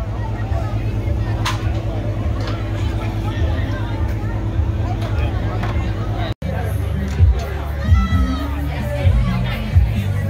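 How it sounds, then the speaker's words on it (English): Crowd waiting before a comedy show in New Bern, North Carolina, a steady low murmur of many voices with nearby chatter and a constant low hum. "The crowd's getting anxious."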